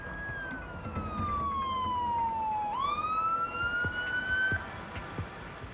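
An ambulance siren in Queens, New York, wails in a long, loud tone that slides steadily downward, then jumps and climbs again, sounding close and continuous over road noise.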